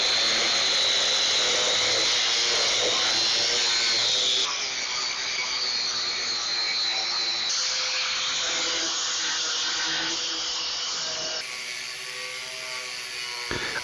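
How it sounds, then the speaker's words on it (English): Angle grinder with a flap wheel grinding rust off a John Deere LA115 lawn mower, a loud, continuous high-pitched whine and abrasive rasp that shifts in pitch as pressure changes. "while I've got the grinder out, I want to see how this flap wheel works"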